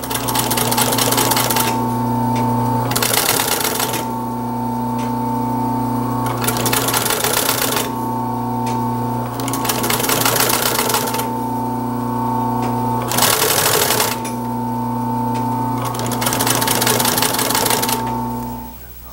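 A sewing machine stitches striped upholstery fabric for a 1930s drop-in seat in several loud, steady whirring runs separated by short pauses, close and alone.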